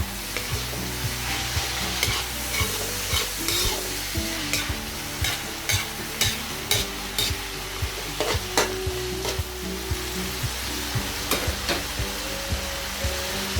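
Vegetables and tomatoes sauté in a pan with a constant bright sizzle while a utensil scrapes and taps against the pan in a loose, repeated rhythm, close up, with no voices.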